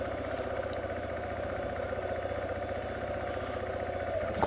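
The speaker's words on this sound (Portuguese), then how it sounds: "Vamos ver se não sei se dá para encostar a moto aqui." Motorcycle engine idling steadily while the bike is being parked, a close, continuous low rumble with even pulsing throughout and no speech.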